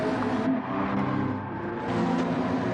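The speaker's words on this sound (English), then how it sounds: "that car is loud" A race car engine in the Gran Turismo 7 racing game at the Sardegna circuit roars loudly and steadily, pitch dipping briefly mid-way before climbing again, with no talking.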